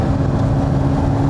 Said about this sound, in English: I've just spent a good while warming the engine and the transaxle through.